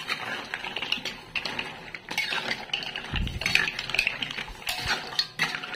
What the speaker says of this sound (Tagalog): Haluin na ulit natin.